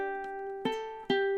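A ukulele plays a short phrase from a song: one sustained ringing note joined by two fresh plucks, each chord ringing out clearly and alone, with no voices.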